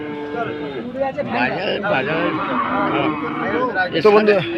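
A local calf at a cattle market moos in long, drawn-out calls, close and loud, while people talk nearby throughout.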